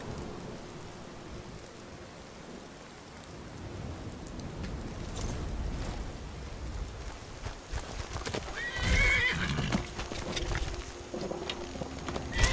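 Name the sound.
horse galloping and neighing in video game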